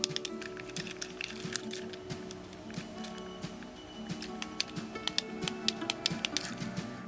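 A fidget cube roller ball rolls with a rapid, irregular run of small dry clicks and taps, close and fairly quiet, with no talk over it.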